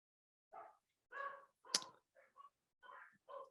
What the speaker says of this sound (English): I'm sorry if you can hear the dogs barking.